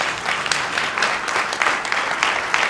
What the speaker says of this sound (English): And a round of applause for Mark.